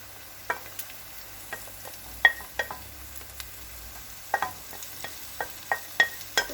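Minced meat with onions frying in a pan: a soft, steady sizzle carries sharp pops and crackles scattered irregularly through it, close but fairly quiet, with no one talking.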